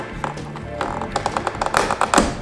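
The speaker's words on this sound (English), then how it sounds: "Basically, you just need to pop those clips." A plastic trim tool makes a quick series of close taps and small clicks while prying the mirror cover clips loose on a BMW F30.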